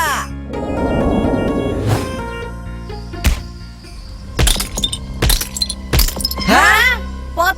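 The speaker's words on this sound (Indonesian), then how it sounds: "Maaf ya Id, aku nggak sengaja pecahin pot kamu" Three flower pots break in a cartoon scene, heard as several sharp crashes with ceramic clinks and rattles spread across the scene, mixed with whooshing, swooping effects.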